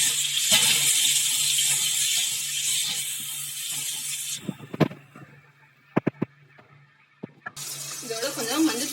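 Tomato and onion sautéing in a pan for a white kurma, with a broad steady sizzle and a few clattering stirs and scrapes partway through before the frying hiss returns.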